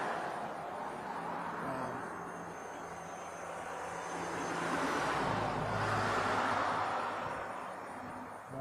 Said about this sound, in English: more traffic, as you can hear.